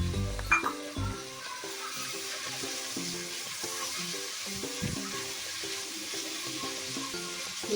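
Green chillies hit a pan of browning onions, giving a faint, steady sizzle with a few soft stirring knocks early on beneath a quiet, tonal background.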